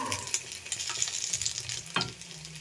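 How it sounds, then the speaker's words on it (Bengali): Bread slices coated in beaten egg fry in hot oil, a steady sizzle with light scraping and a sharper clatter near the end as the egg toast is handled in the pan. "দু পিট মাখানো হয়ে গেছে দিয়ে দিলাম তেলের মধ্যে"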